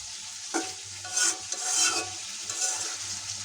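Curry stir-fried in oil in a well-seasoned black kadai, a spatula scraping and stirring in uneven strokes over a steady close sizzle, with no voices.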